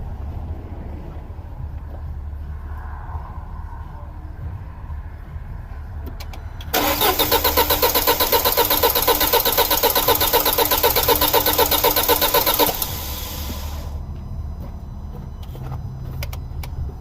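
A 2006 Audi A4 2.0T with a misfire cranks: the starter churns loudly and evenly for about six seconds over a low background hum, then drops away.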